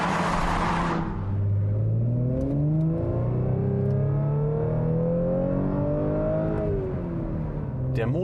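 A powerful Audi S4 engine revs up hard under acceleration, its steady rising and falling drone heard close and continuous for several seconds.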